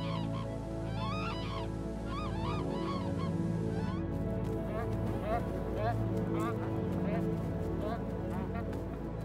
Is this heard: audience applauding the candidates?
no